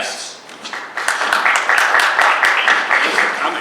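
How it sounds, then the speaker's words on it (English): An audience applauding panel guests at an arts and community event, a burst of clapping that starts after a second and holds steady to the end. "a round of applause for our guests"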